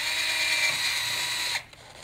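Power drill boring a hole through a wooden board, a loud, steady high whine that cuts off abruptly as the bit stops, followed by a faint clunk.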